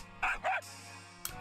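A dog character in the video game Persona Q2 gives two quick barks over a low, steady background music bed, followed by a short faint yip.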